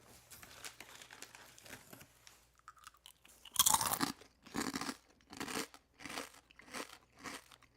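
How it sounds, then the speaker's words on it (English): Close, crisp crunching of tempura-fried seaweed being bitten and chewed, a soft rustle first, then five or six loud brittle crunch bursts spaced in a steady chewing rhythm with quiet gaps between. "if you need to hear the crunch without the music"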